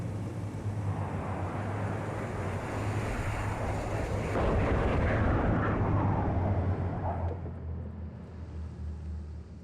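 A grenade goes off in the video game Six Days in Fallujah as a loud, rolling rumble that swells midway and then slowly fades under steady wind-like noise, with no voices.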